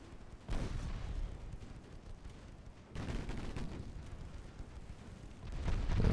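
Warship main guns fire in the naval battle game Ultimate Admiral Dreadnoughts: two heavy booming salvos a few seconds apart, each followed by a rumbling tail, with further gunfire building at the end.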